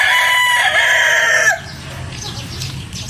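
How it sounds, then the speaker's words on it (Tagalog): A rooster crows loudly and close for about a second and a half, then chickens cluck softly in the background. "Bumalik sa manok."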